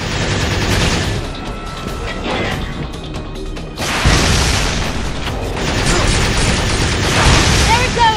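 Loud rumbling blasts and crackling debris from combat in the video game Binary Domain fill the scene, with a heavy boom midway and dense noise throughout, voices faintly mixed in.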